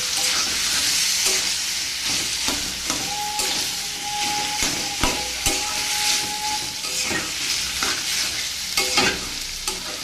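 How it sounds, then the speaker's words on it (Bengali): Grated coconut and taro greens are stirred and fried together in a pan for a vegetarian dish. A steady close sizzle runs throughout, with repeated spatula scrapes and stirs and no talking. "এটাকে নেড়ে চেড়ে বেশ ভালো করে রান্না করব।"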